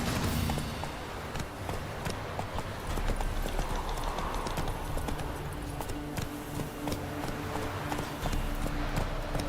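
Horse hooves clip-clop in a steady galloping rhythm across the ground in The Witcher 3: Wild Hunt, loud and close throughout with faint game ambience beneath.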